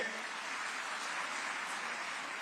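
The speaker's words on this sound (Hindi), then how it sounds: "पहले तो आभार मान लो नरेंद्र मोदी जी का, जोरदार ताली बजा करके" Audience applause at a rally where the Madhya Pradesh chief minister is addressing women beneficiaries, a steady dense wash of many hands clapping throughout, fairly faint and without pauses.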